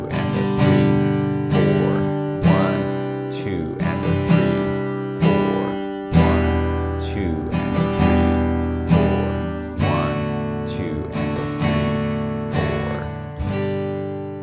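Acoustic guitar strummed in a steady 16th-note pattern that skips the second beat, repeating the bar several times with a clear accent-gap rhythm; loud, close and unaccompanied by voice.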